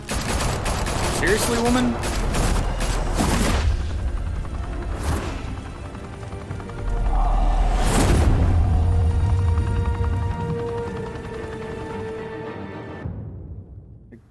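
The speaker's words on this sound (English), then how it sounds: "Just stop shooting at me." Crackling volleys of gunfire in the Batman Telltale Series game, heavy shooting at first, then quieter rumbling action with occasional sharp bangs and a brief spoken line before it fades out.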